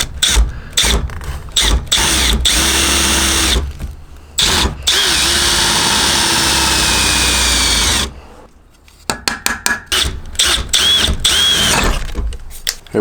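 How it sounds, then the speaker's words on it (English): A power drill bores out old rivets on a V8-swapped Jaguar, loud close whines in long sustained runs broken by short pauses and a series of quick stuttering bursts near the end. "I just need to drill out these old rivets"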